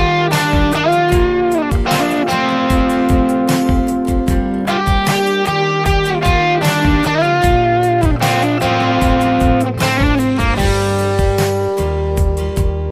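Electric guitar plays the intro riff to a song in a country tone with the treble eased back. Clear picked notes and chords run continuously at a steady, moderate volume.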